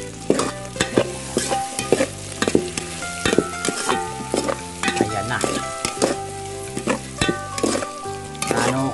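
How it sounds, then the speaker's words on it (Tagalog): Chicken tinola with green and red onion being stirred in a pot, with close, repeated scraping strokes and clinks over a steady sizzle, no talk. "Then, syempre, haluin natin."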